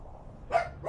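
A dog lets out two short, sharp barks close by, the first louder, with a quiet low background in between.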